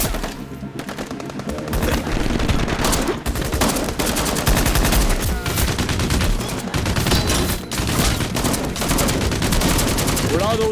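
Sustained automatic gunfire and rapid shots from a Balkan war film, loud and dense throughout, with shouted voices mixed into the battle noise.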